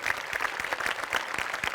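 Dense, steady applause from a studio audience after a comedy skit on a Marathi comedy show, many hands clapping together evenly for a couple of seconds with no voices.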